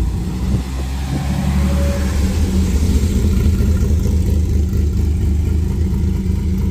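A classic Austin car's engine runs close by with a deep, loud, steady drone and a slight rise in revs, heard outdoors at a gathering of collector vehicles.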